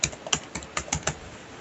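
Keystrokes on a computer keyboard while a simple Python program is written, about eight separate clicks in an uneven rhythm, close and clear, with no voices.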